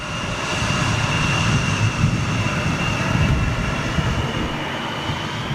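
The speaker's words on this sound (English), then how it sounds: "787-9 outbound to Bridgetown. Here we go, straight out. Noisy little engines, man." A TUI Boeing 787-9 jet roars through its takeoff run at an airport, a loud, steady, broadband engine rumble with a faint high whine holding for several seconds.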